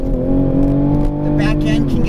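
Engine drone of a 2020 Toyota Supra driving on winding back roads, a steady, loud, close in-cabin hum that rises slightly near the end, with talking over it.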